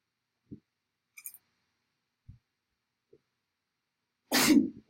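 A single sharp sneeze bursts out near the end, after a few faint scattered clicks and taps in an otherwise quiet room.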